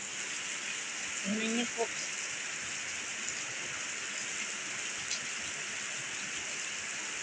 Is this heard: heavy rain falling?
yes